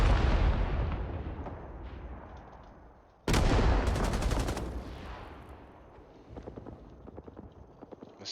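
Gunfire from a DShK heavy machine gun in Rising Storm 2 Vietnam booms in sharp bursts, with a loud rattling volley partway through and fainter rapid shots trailing off afterward amid battlefield noise.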